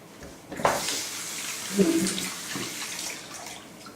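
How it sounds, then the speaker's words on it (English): A kitchen tap runs while hands are washed under it, splashing softly in short bursts for a few seconds, close and fairly quiet. "let me wash my hands"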